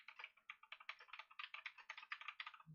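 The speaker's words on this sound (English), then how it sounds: "Can we hear my keyboard go click clack click clickety clackety? Because I do have a kind of a loud keyboard." Rapid, continuous clicking on a loud computer keyboard, dozens of crisp keystrokes in uneven bursts, close but recorded at low level, with no talking.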